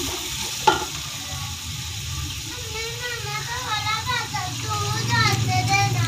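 Tomatoes and chilies frying in a pan for moong and masoor dal, a steady close sizzle with stirring scrapes and a sharp tap near the start, while children's voices chatter in the background.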